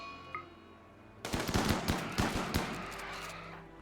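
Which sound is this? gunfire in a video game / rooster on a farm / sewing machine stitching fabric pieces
gunfire in a video game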